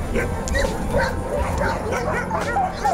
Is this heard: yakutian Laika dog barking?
yes